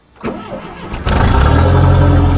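Cold start of a turbocharged Aries race wagon: a starter cranks briefly, then the engine catches and settles into a loud, steady, rumbling idle close by.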